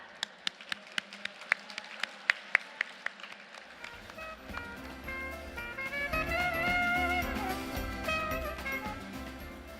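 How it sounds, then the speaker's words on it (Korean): At a Seoul seminar on apartment redevelopment, a few sharp, spaced claps from near the front give way after about four seconds to full, sustained applause from the audience welcoming the speaker. "강영훈 대표님을 큰 박수로 환영해 주시기 바랍니다."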